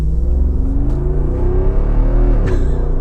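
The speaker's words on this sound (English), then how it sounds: "It's a V8, it's a naturally aspirated V8, right? It's not a sound that you'll hear much anymore" A 2021 Jeep Wrangler Rubicon 392 with a naturally aspirated V8 revs loudly and close by, its deep rumble climbing steadily in pitch, with a brief sharp burble near the end.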